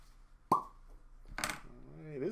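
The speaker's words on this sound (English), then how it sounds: "Cork pop." A cork pops sharply out of a bourbon bottle at a tasting, one quick hollow plop followed by someone talking close by.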